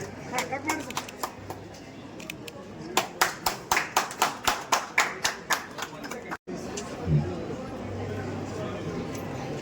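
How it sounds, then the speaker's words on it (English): A burst of hand clapping from a group at a jewellery shop grand opening in Bijapur, a quick run of claps that fades out, followed by background murmur. "can we have a huge round of applause along with the party?"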